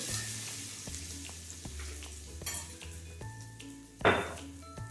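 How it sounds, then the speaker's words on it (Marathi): Garlic and green fenugreek paste frying with peanuts in a pan, heard as a low sizzle under repeated knocks and scrapes of a spoon against the pan, ending in a louder clattering stir, with no talking. "थोडीशी लसूण आणि हिरवी मेथीची पेस्ट, छान मिक्स करून घेऊ."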